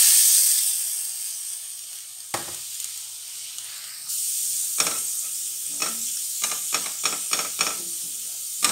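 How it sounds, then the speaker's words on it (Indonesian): Blended ground spice paste is stir-fried in hot cooking oil for mie godog, first as a soft hiss, then as loud, close sizzling with repeated sharp stirring scrapes and bursts. "Kita masukkan yang namanya bumbu halus yang tadi kita tumis dengan kita sudah blender"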